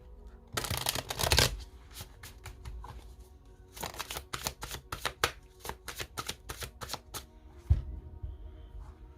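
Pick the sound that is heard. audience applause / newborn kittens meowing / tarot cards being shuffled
tarot cards being shuffled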